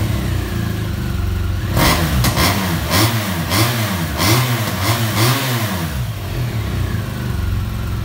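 A BMW motorcycle with keyless ignition starts and revs, loud and close, its engine note climbing and falling through a run of repeated throttle blips before settling back toward idle, with no voices over it.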